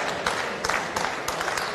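Crowd applauding at a 9-ball billiard tournament match between England B and Indonesia after a 2-9 combination shot, a steady wash of clapping with a few louder bursts throughout.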